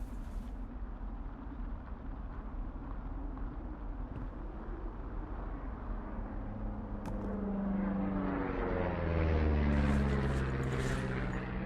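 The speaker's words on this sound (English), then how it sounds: "You see that plane?" Propeller airplane passing overhead in the video game Firewatch, a low droning engine over a quiet outdoor ambience that swells louder and sweeps downward in pitch in the second half as it flies by.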